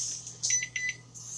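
Electronic kitchen timer gives short high beeps as it is set to 17 minutes and started while strawberries-and-cream puppy chow is made, a few quick pips over a faint steady hum.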